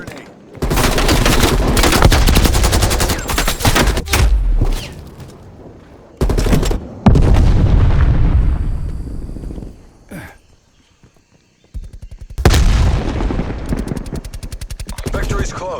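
Call of Duty Black Ops Cold War combat: loud, dense bursts of rapid gunfire and blasts, a frag grenade among them, arriving in several heavy volleys separated by short lulls.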